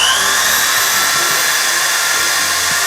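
A power drill with a 3/16-inch bit pre-drills holes in a wooden entryway bench, giving a continuous high, close whirring whine for a few seconds without speech.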